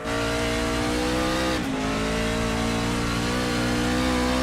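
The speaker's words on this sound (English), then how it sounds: "Listen to the rumble of that truck." A racing truck's engine rumbles loud and close on a street course in an electric truck series race, a steady sustained drone with a brief dip and shift in pitch partway through, no voices.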